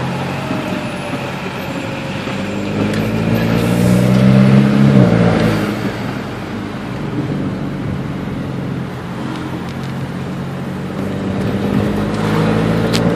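A supercharged Range Rover engine gives a low, steady drone that swells into a brief rev near the middle, then settles back to a close, sustained rumble without any talk.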